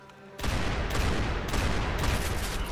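In the video game Max Payne 3, a sudden, dense barrage of rapid gunfire erupts after a brief quiet moment and continues loud and unbroken, with heavy overlapping shots and booms.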